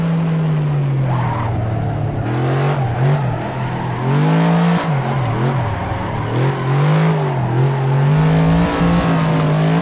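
A Ford Mustang drifts in a racing video game with its engine droning loudly and continuously. The pitch rises and falls as the revs change, while tire squeal runs underneath and no voices are heard.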